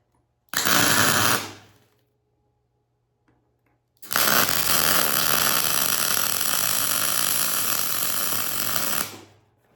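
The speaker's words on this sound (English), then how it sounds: "So I just weld that right there." Steel is welded on a homemade diesel submarine: a short burst of harsh crackling hiss about a second long, a pause, then a longer sustained crackling bead of roughly five seconds, close and loud, with no talking.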